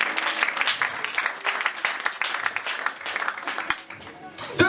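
A church congregation at a youth convention applauds, with crisp, irregular clapping from many hands sustained for several seconds, thinning slightly toward the end.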